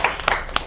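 Students in a school classroom clap briefly in praise of a correct answer, a short burst of a few sharp hand claps up close, with no one speaking.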